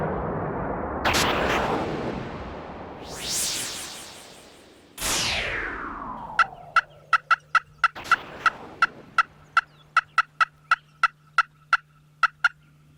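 A wild turkey gobbles loudly in a few long rolling bursts, followed by a rapid series of sharp, evenly spaced calls.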